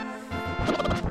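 A short, punchy retro hit effect from the video game Zelda: A Link to the Past rings out as a brief crash of bright tones, loud and alone.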